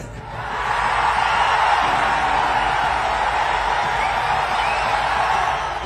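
Loud, dense crowd uproar at a political rally for AIADMK in Tamil Nadu swells after the first second and holds steady, a broad wash of cheering and voices without a break.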